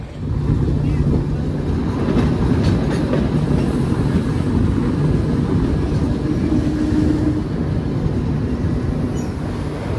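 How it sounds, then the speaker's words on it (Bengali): The Vistadome tourist special train from NJP to Alipurduar runs slowly through the Dooars forest, giving a loud continuous rumble from inside the carriage with faint wheel clatter throughout. "ট্রেনে যাচ্ছি, ট্রেন স্লো করে দিয়েছে"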